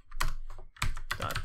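Code typed on a computer keyboard, a fast close burst of clattering keystrokes with a brief pause, crisp and continuous with no speech.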